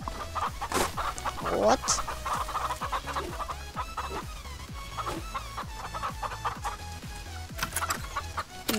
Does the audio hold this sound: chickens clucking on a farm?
yes